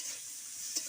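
Bitter gourd with raw onion, green chili, turmeric, salt and oil frying in a pan, a steady close hiss of sizzling oil with a single soft clink of a spatula near the end.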